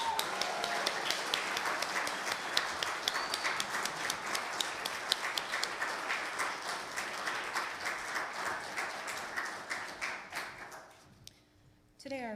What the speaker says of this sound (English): And as they exit the chancel, a huge round of applause.